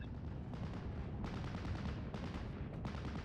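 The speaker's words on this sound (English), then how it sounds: "HMG is going to be opening up on the Panzer Grenadiers" Heavy machine gun fire from a Steel Division: Normandy 44 battle, several dense bursts of rapid shots with booming low rumble, fairly distant and continuous, without speech.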